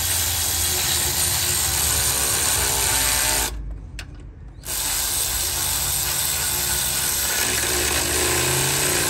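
Timing belt tensioner bolts being tightened on a 2008 Chrysler 300 with a 3.5L engine, a loud steady whirring power tool running close up, cutting out briefly for about a second before resuming.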